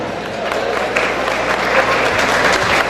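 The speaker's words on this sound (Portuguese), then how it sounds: "Palmas para eles." At a Brazilian sports TV program's anniversary event, a crowd claps steadily and densely throughout, a full, sustained round of applause filling the room.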